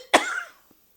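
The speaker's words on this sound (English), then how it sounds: "I'm sorry to cough." A person gives a single sharp, close cough that trails off into a brief rasp, followed by a faint tiny sound and then quiet.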